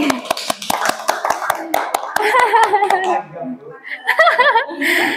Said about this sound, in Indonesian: Tepuk tangan untuk Bumi